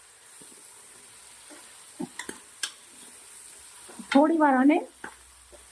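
Mixed vegetables, including corn and cabbage, sauté uncovered in a pan for Hyderabadi veg masala, a soft steady sizzle broken by a few spoon taps and a short spoken phrase.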